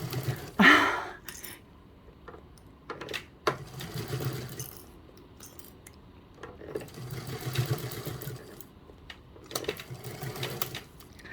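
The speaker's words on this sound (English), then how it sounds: "it was hard for me to reverse stitch back there because I've gone too far forward" Domestic sewing machine stitching a seam on a tote bag, a soft rapid mechanical whirr that starts and stops in short runs, with occasional clicks and handling noises close by.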